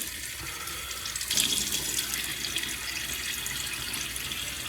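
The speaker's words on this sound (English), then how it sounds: "I even put water on my face." Running tap water at a bathroom sink while a man wets his face before shaving, a steady close hiss of flowing water with a brief louder splash near the start.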